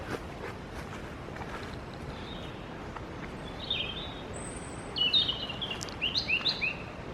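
Woodland birds calling among spring bluebells and stitchwort, a few distant high chirps and short twittering phrases over a constant hiss, with soft rustling steps.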